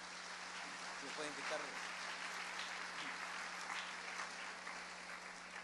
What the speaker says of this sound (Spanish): Démosle otro fuerte aplauso al Señor